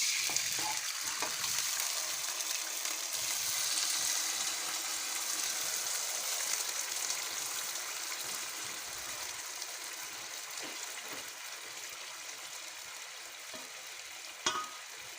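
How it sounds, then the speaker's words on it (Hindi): Pressure-cooked beef boti fries in a dry pan with no added ghee or oil, giving a steady, close sizzle that carries throughout with occasional spatula scrapes and a sharper clatter near the end. "अब हम प्रेशर कुकर से गोश्त को इस फ्राई पैन में निकाल कर भूनेंगे"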